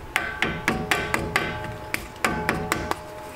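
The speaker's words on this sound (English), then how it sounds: "I'm going to take the hammer" A hammer taps cardboard flat on a brake backing in a steady series of sharp, dull knocks, about a dozen evenly spaced strikes, close by with no talking.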